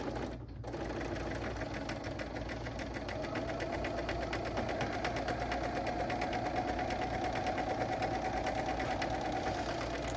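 A BERNINA L 850 overlocker stitching and trimming fabric runs steadily at close range, a fast, even mechanical whirring and knocking that holds for the whole stretch after a brief start.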